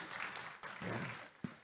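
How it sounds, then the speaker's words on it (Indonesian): A church congregation claps during a Sunday sermon, a dense wash of applause that swells and holds for over a second, then a single louder clap near the end. "Yang setuju berikan tepuk tangan dulu yang meriah untuk Tuhan Yesus."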